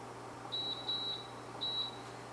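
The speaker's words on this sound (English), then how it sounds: "we're going to make some beeps here while we turn this" Three short, high electronic beeps from a kitchen appliance being switched on sound close by, evenly spaced over a low steady hum.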